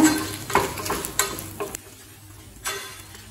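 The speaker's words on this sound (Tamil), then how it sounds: "இது ஸ்லோலே வச்சு நல்ல வாசனை வர வரைக்கும் வறுத்துக்கலாங்க." Chana dal, coriander seeds and dried chillies are dry-roasted in a pan, giving dry scraping and rattling stirs with soft crackles that come in a few irregular bursts, close and fairly quiet.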